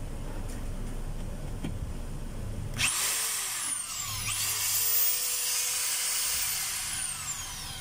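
A DeWalt D25032 rotary hammer switches on partway through and runs with a loud, steady whine, its pitch sweeping and shifting as it speeds up and changes mode, after a quieter stretch of background noise.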